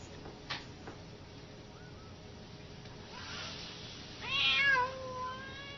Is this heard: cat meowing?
yes